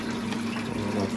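Rinse water drains out the bottom of a brewing vessel on a brew day, a continuous close rushing gush with no breaks.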